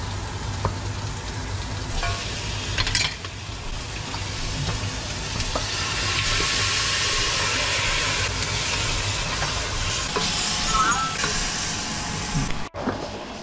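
Pork sautéing for sinigang gives off a continuous close sizzle and hiss, swelling louder midway. Occasional clinks and stirring knocks sound with no talk.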